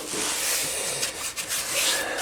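Continuous, even rasping of sandpaper rubbed back and forth on a plastic Opel Astra headlight lens, close up, with a few brief pauses.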